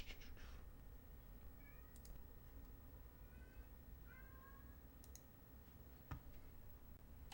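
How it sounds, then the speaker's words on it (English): A domestic cat meows a few times, faint and somewhat distant, in a quiet room with soft clicks and steady background hiss. "My cat's crying."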